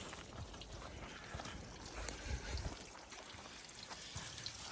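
Water drains from an aluminum pontoon in a faint, continuous trickle and dribble, quiet and steady with small irregular splashes.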